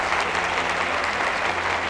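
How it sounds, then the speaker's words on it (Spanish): Audience applause at an education event sharing successful teaching experiences, a dense, steady wash of clapping from a full room that continues evenly throughout without any voices. "que le brinden un fuerte aplauso porque lo merece"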